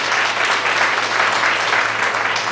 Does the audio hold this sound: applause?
yes